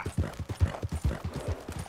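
Horse hooves clip-clopping at a steady trotting rhythm in the game Red Dead Redemption 2, with repeated muffled thuds that are moderately close and heard without talk.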